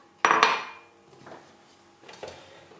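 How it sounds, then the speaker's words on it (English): A small bowl grabbed in a kitchen, a sharp ceramic clatter at the start followed by two softer knocks and clinks against the counter. "Let me just grab a little bowl here."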